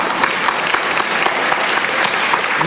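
Steady, dense applause from an audience at the Prix Historia de l'inattendu 2012 award ceremony, honouring the jury presidents and laureates; loud, continuous clapping throughout with no voices standing out.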